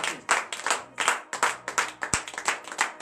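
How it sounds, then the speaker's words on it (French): A congregation at a Tuesday morning prayer service in Benin claps in acclamation, a fairly close burst of uneven rhythmic handclaps with a few sharp louder claps and no talk over it. "Frères et sœurs qui donnent une vive acclamation à l'Éternel ce matin."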